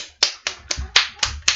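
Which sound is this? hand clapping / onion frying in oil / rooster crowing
hand clapping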